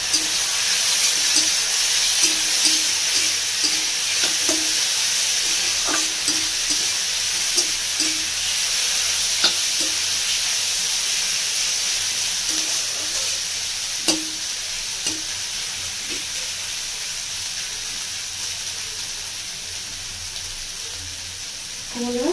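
Vegetables fry in a pan with cumin and chilli powder over a medium flame, making a constant close sizzle broken by soft rhythmic taps and scrapes of stirring.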